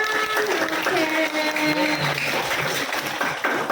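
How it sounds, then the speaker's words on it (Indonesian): Applause from a group of students in a classroom session, steady clapping throughout with children's voices and chatter mixed over it. "Tepuk tangan sekali lagi teman-teman."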